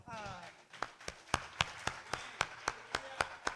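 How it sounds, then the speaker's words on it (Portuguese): A church congregation applauding at a worship service, distinct rhythmic claps around three to four per second, fairly faint and close, with voices speaking over them. "Vamos aplaudir o Senhor?"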